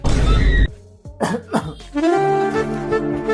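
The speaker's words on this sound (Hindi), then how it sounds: "कितने दिन से खांसी है तुम्हें?" A single harsh cough bursts out up close, followed by a short throat-clearing sound and a brief voiced noise.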